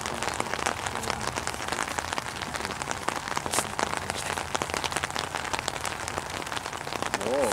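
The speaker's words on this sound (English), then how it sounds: "Nice and rainy." Steady rain falls on a hard surface, a dense continuous patter of drops filling the whole stretch at an even level with no voices.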